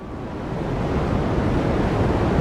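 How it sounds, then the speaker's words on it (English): Cosmic background radiation from the Big Bang, picked up by Penzias and Wilson's radio telescope and converted into sound: a steady, dense broadband hiss that swells slightly and holds continuously, with no voices. "Penzias and Wilson picked up an echo of the beginning of the universe on their radio telescope, and they were able to translate it into the sound you've been hearing"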